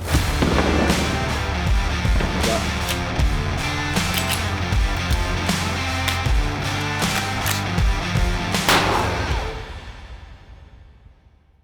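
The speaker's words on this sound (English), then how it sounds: "shooting this beer keg with everything from a 22 all the way up to a shotgun slug" Gunshots from firearms ranging from a .22 up to a shotgun slug strike a full beer keg, a loud run of sharp, repeated bangs that crowd together over several seconds before fading out.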